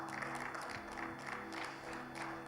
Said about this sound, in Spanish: Yo le voy a dar un fuerte aplauso al Señor.